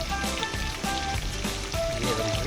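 Chicken frying in oil for Mughlai-style chicken chaap gives a steady, dense, close sizzle that runs without a break, with no voices over it.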